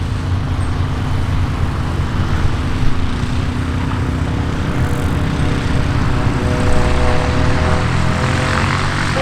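A tail dragger propeller airplane drones steadily while arriving to land at EAA AirVenture Oshkosh 2018, its engine loud amid a continuous wash of background noise.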